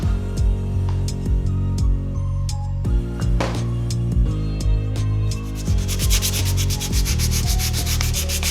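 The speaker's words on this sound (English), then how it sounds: "everything's sanded smooth to the touch" Sandpaper rubs back and forth over a car's front bumper lip in steady repeated strokes, close and continuous with no talk.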